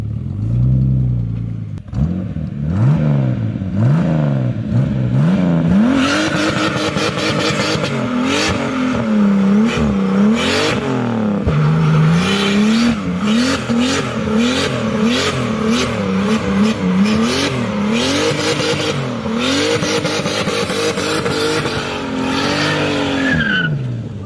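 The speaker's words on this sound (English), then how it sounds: "I just know a car's gonna come out as he's doing the burnout" Turbocharged BMW E28 doing a burnout, its loud engine revving hard and rising and falling in pitch over sustained tire squeal and skidding, close and continuous throughout.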